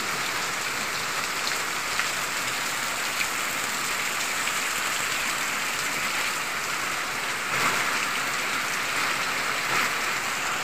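Heavy rain pours down during a typhoon, a dense, steady hiss of drops beating on surfaces that holds at an even level throughout, with no voices.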